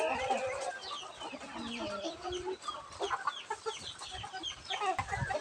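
Several breeder hens cluck and murmur close by in a busy, overlapping chorus, with occasional sharper squawks.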